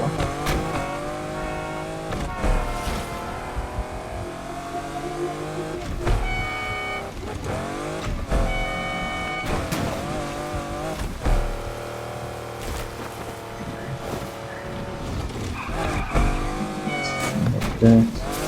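Engine of a car in the racing game Need For Speed Unbound revving and shifting, rising and falling pitch sweeps with occasional tire squeal, loud and continuous throughout.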